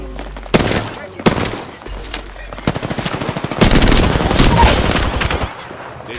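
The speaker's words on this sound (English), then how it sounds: "They're firing on me." Automatic gunfire in Apex Legends, loud rapid bursts from close by that repeat in dense volleys and build into a long sustained spray, with brief pauses between.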